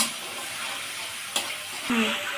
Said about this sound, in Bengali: দেখুন আমার মশলাটা বুঝবুজ করে সুন্দর কষে যাচ্ছে